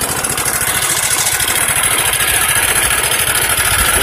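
A Honda Beat 100cc scooter engine idles steadily up close, a continuous even putter with a fine rapid pulse and no voices over it.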